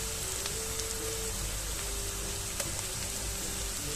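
Spices with garlic paste fry in a pan, a steady close sizzle with faint crackles running throughout, no voices.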